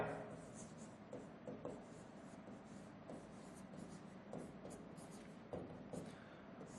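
A pen scratches across paper in quick, uneven strokes, close and quiet, as the given data for a reinforced concrete beam design problem is written out by hand.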